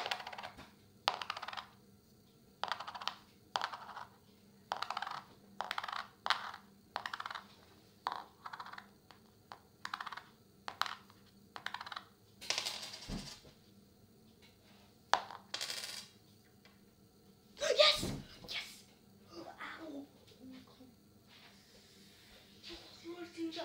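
Repeated short metallic clinks of a coin being flipped and dropped, irregular rhythm, close and fairly quiet, with soft background noise and a few louder knocks.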